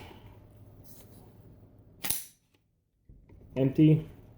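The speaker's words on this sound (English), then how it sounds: "we got to pull out the mag, so you got to push the pin or mag release" An STG 44 rifle magazine is released and pulled out, giving a sharp metallic click followed by a brief silence and then a few clacks and scrapes of the magazine sliding free, close and distinct.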